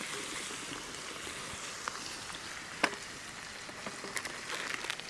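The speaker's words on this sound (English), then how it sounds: "it's time to add the onions back into the pan" Onions sizzle softly in a pan over hot coals on a Traveler grill while a shepherd's pie is cooked outdoors, a steady faint frying hiss broken by a few sharp clicks and pops.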